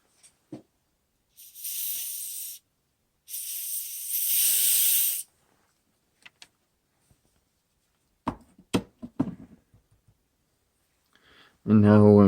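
WD-40 Specialist Contact Cleaner aerosol sprays in two sustained hisses on a Penn Line 2-8-0 Consolidation model locomotive under repair, close and loud, followed by light clicks, handling noises and a brief voice.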